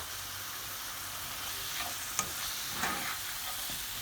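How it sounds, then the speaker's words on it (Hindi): Chicken pieces stirred into a frying spinach curry masala, a steady sizzle with a few scraping strokes of the spoon partway through; close, moderately loud, no talking. "अब मैं इसमें चिकन शामिल कर रही हूँ।"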